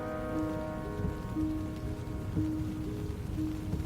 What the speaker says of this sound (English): Rain drizzled over the canyon of the South Fork of the Ogden River.